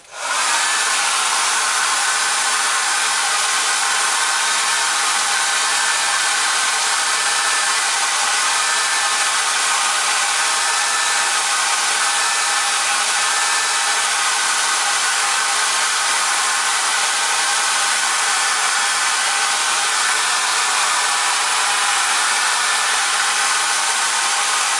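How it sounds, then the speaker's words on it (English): A hair dryer on high blows steadily at full power, drying paint on a crankbait lure, a loud continuous whooshing roar running unchanged from start to finish. "Just use a normal hair dryer. Put it on high for first coat."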